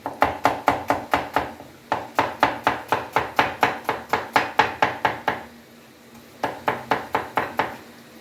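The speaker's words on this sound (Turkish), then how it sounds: "Ciğerimiz jülyen oldu. Soğanımız da jülyen olsun." Rapid, even knife strokes on a cutting board slicing onion into julienne strips, a close, crisp run of about two chops per second with a short pause, then another quick burst.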